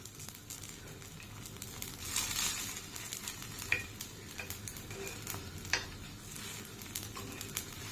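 Light clicks and a steady soft sizzle as rice-and-dill paddu dumplings are turned over one by one in a hot pan, with small scraping ticks scattered across the frying.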